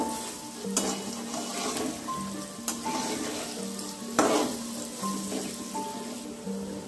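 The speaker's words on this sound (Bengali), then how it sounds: "এপিঠ ওপিঠ ভালো করে উল্টিয়ে পাল্টিয়ে একটু মুচমুচে করে ভেজে নেব" Small lentil fritters (bori) sizzling steadily in hot oil, a dense crackling fry with occasional sharper pops and a few clinks of a utensil turning them.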